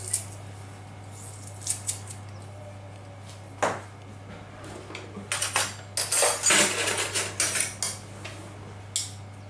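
A small gadget chops three garlic cloves for stuffed zucchini with hake and prawns, producing irregular close clicks and clatters that build into a dense rattling burst midway, then scattered taps.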